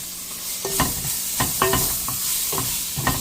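Spicy chicken curry mix being stirred in a pan, repeated scraping strokes of a spoon over a steady sizzle, rhythmic and close, with no talking.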